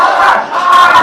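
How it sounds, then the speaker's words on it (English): Philippine fans in a packed arena at a Singapore versus Philippines SEA Cup match chant "big boy" loudly and in unison, a rhythmic roar from the crowd. "Here the Philippines chanting big boy, big boy."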